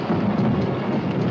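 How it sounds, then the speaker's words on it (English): A thunderstorm sound effect from a 1953 film serial rumbles as a steady, loud wash of low roaring noise with rain-like hiss, continuous throughout with no voices. "We're in the heart of a pip of a storm."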